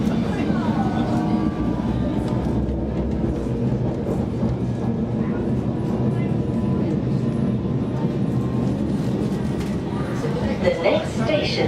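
Steady rumble and rattle of a London Underground Hammersmith & City line train running, with broadband rolling noise throughout and occasional squeals, no pauses.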